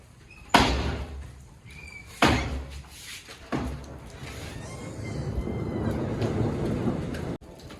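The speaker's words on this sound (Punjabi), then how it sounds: "ਮੀਂਹ ਪੈਣ ਲੱਗ ਗਿਆ ਤੇ ਮੀਂਹ ਪਈ ਜਾਂਦਾ" Heavy rain pours steadily while hail falls, and thunder cracks loudly three times near the start, each crack rolling off. The downpour then settles into a constant dense roar.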